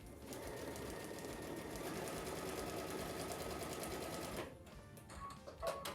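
A sewing machine runs steadily for about four and a half seconds, stitching a fabric panel seam for a flower-through-lattice quilt, then stops, leaving faint handling noises at the end.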